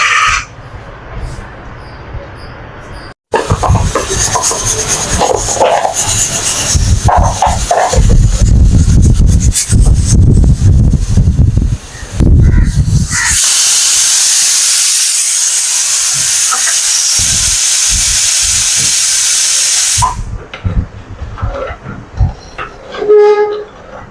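A pressure cooker on a stove while mango rasam is made, with a long, loud, steady steam hiss that swells into a sustained whistle lasting several seconds before cutting off, followed by faint kitchen clatter.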